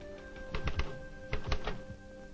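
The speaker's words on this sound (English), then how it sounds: "types out its reports on an automatic typewriter" A Universal Telereader automatic typewriter types out reports in two quick bursts of three or four clacking keystrokes over a faint steady hum.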